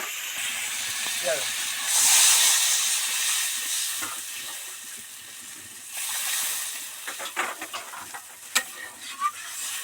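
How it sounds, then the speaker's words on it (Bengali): Water is poured into a pan of fried vegetables, including eggplant, for a mustard koi fish curry. A loud burst of hissing steam fades into steady sizzling with scraping stir clicks near the end. "সবজিগুলো ভাজা কমপ্লিট হয়ে গেছে এবার জল দিয়ে দেব"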